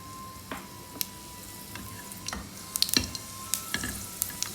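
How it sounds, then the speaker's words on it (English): Cumin seeds, pepper and coriander seeds crackle and pop in hot oil, with sharp irregular spits over a steady sizzle and occasional stirring; no talking. "Once it sizzles,"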